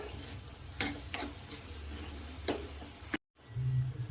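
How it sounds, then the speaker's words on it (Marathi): Grated boiled egg being stirred and sautéed into masala in a pan makes a soft frying hiss, with a few scraping spatula strokes. There is a brief silent gap near the end, then a low hum. No one speaks. "आता यामध्ये आपण हे अंडे किसलेले ऍड करून देऊ आता याला छान असं मिक्स करून घ्यायचं आहे"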